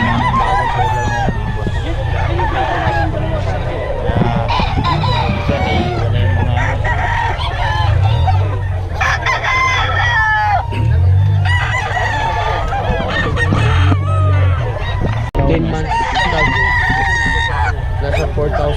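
Roosters at a gamefowl farm crow and cluck over and over, several birds overlapping in a dense, loud chorus, with people talking at times underneath.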